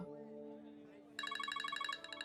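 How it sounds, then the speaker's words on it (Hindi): A telephone ringtone bursts in with a rapid, bright electronic trill of repeated pulses, following a sustained low musical drone, fairly close and clear. "telephone call"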